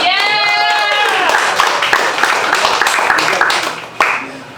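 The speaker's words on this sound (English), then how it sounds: "Give a round of applause for Bob Zell, please." An audience at a poetry reading applauds with dense, steady clapping that fades near the end, briefly overlapping a voice at the start.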